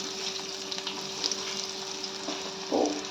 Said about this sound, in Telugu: ఇప్పుడైతే పకోడీలు వేసేసుకో.